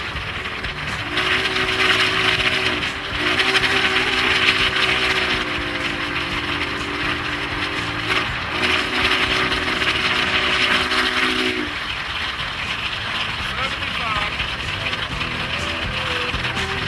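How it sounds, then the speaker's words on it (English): Union Pacific 844 steam locomotive roaring past across open plains at high speed, a loud continuous rumble with sustained whistle-like tones for several seconds, then fading into steady rolling noise. "Union Pacific's 844, the living legend roars through the plains at 75 miles per hour, showcasing steam power at its peak."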